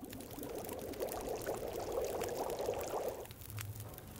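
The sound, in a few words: preparing water in The Long Dark (video game)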